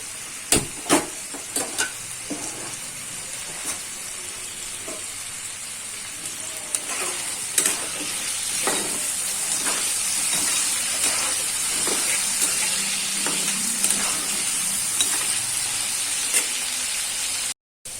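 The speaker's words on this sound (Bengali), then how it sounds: "আলুটা ভেজে নেব আগে।" Potato pieces frying in oil seasoned with salt and turmeric, a steady hissing sizzle with scattered sharp clicks and pops of stirring, alone without talk until it cuts off at the end.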